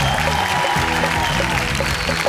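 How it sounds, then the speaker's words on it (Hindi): Applause from an audience, a dense steady wash of clapping that fills the whole short stretch, with faint music or voices underneath. "जोरदार ताली के साथ स्वागत करी जा पहले"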